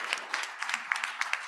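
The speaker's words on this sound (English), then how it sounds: "oh my gosh, a wonderful round of applause" Applause at a conference, a crowd clapping in a steady patter of overlapping claps at moderate volume.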